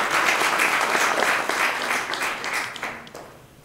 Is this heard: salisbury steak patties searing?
no